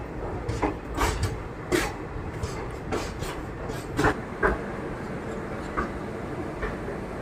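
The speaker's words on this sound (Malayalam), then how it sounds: "9:35 എത്തേണ്ട നമ്മുടെ ട്രെയിൻ ഇപ്പോൾ 9:30 ആയപ്പോഴേക്കും തന്നെ അപ്പോൾ KSR ബംഗളൂരു റെയിൽവേ സ്റ്റേഷനിലോട്ട് എത്തിയിട്ടുണ്ട്" The Chamundi Express pulls into KSR Bengaluru railway station with a low rolling rumble and irregular clanks and clicks of wheels over rail joints, fairly close and steady throughout.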